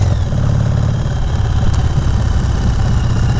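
A loud motorcycle engine idles steadily close by, a dense low rumble that holds constant throughout with no speech over it.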